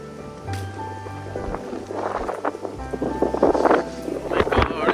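Gusty wind buffets the microphone in uneven rushes, growing stronger toward the end, with a low rumble and faint voices underneath.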